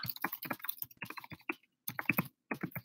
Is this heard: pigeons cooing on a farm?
no